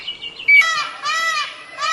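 A Malabar whistling thrush gives clear, sweet rising whistled phrases from a deep Sahyadri valley, several separate notes in a row, close and fairly loud over a quiet background.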